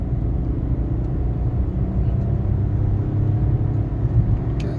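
A Kia Picanto small budget car with 28,000 kilometres on it is driven hard, giving a steady, close engine and road rumble with no clear rise in revs.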